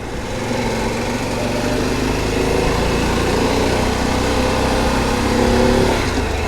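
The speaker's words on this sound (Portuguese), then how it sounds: "Estou me arriscando aqui a dar uma acelerada um pouco mais." A Harley-Davidson Pan America motorcycle engine drones steadily and loudly on a seaside road near Prainha beach in Rio de Janeiro, swelling slightly as the rider opens the throttle toward the end.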